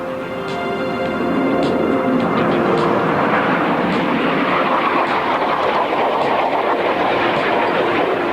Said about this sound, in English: the aircraft are very close together in a very neat formation